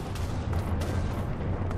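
Explosions rumble in the Minecraft world, inside an SCP foundation setting, heard as a continuous loud, deep rumble with several sharper booming hits over about two seconds.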